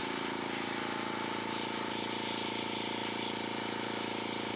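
Cheap airbrush spraying paint onto a toy, a steady unbroken hiss with a faint pump-like hum underneath, close and constant throughout, no voices.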